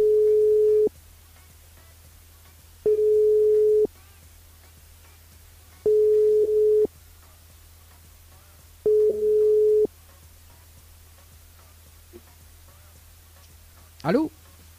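Telephone line ringing on an outgoing call as a French radio host phones a listener: four steady electronic ring tones, each about a second long, separated by silent gaps, then a brief voice at the end.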